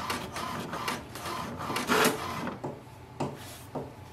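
An HP DeskJet 2827e inkjet printer prints a page, its mechanism giving a series of irregular rasping, scraping strokes and clicks at close range, with a louder burst midway.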